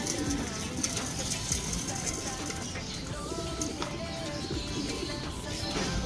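Pigeons coo softly amid a busy mix of fluttering and scattered bird sounds, with faint rustling and a light background bustle.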